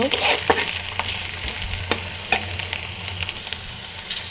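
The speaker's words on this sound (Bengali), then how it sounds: "পেঁয়াজের ভিতরে দিয়ে দেব ঝাল মানে কাঁচামরিচ এটাকে দিয়ে আরও একটু নাড়াচাড়া করব" Onions and green chillies fry in a pan, a loud close sizzle broken by repeated scrapes and clicks as they are stirred, with no talking.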